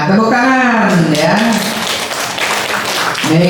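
An audience at a school student council leadership training gives applause for a speaker: a brief patter of clapping rises beneath a voice talking over it, then fades as she continues.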